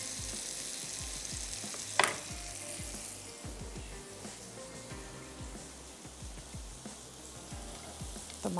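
Chicken sizzles steadily while frying in a pan for a grilled Italian chicken dish, with a sharp clatter near the start and light stirring and utensil knocks throughout; no one speaks.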